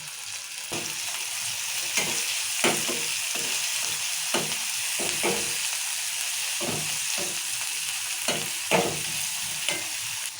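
Chopped chillies, tomato, mint and coriander fry in a pan for goat brain fry, with a steady soft sizzle broken by repeated scraping stirs of a spatula, close and moderately quiet, with no voices.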